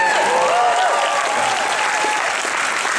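Audience applause with some cheering and whistles, a dense, steady wash of clapping that fills the whole stretch, loud and close, with no speech over it.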